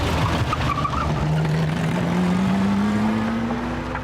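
A Lamborghini Miura supercar drives steadily, its engine a loud, continuous drone whose pitch climbs gradually as it gains speed, with no voices.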